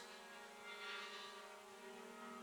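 Holystone HS175G toy drone hovering with its small propellers giving a steady, high-pitched whine with stable tonal harmonics, fairly close, swelling slightly midway, and no talk.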